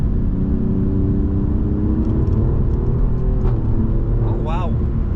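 Alfa Romeo Giulia Quadrifoglio accelerating hard with its ZF gearbox, a steady droning engine note heard from inside the cabin, with quick shift interruptions and a person talking over it.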